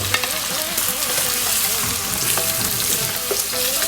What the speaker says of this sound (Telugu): ఇప్పుడు గ్రీన్ చిల్లీస్ కూడా వేస్తున్నాం అలాగే టమాటాస్ కూడా వేస్తున్నాను అన్నీ కలిపి బాగా గోల్డెన్ బ్రౌన్ వచ్చే వరకు వేపుకోవాలి